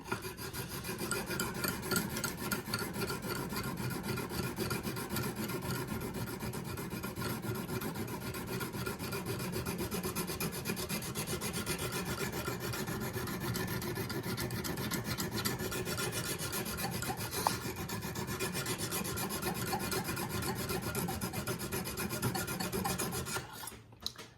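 Steady, coarse rasping goes on for more than twenty seconds as a Lansky sharpening stone is stroked back and forth, grinding against the metal clamp that holds a Mora knife, close up with no talking.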